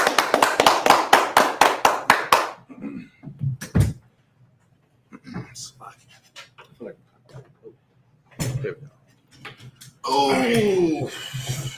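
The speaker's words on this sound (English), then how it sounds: "Let's clap it up for the Most High." A congregation at a Saturday Sabbath service claps in a quick, steady rhythm of about nine loud beats, then stops, giving way to scattered voices, shuffling and a burst of chatter near the end.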